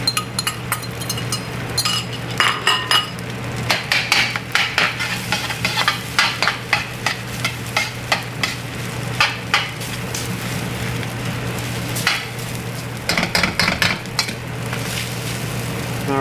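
Fried rice with eggs stir-fried in a cheap wok, with a spatula scraping and clinking against the pan in rapid repeated strokes over a steady background hum, close and fairly loud throughout.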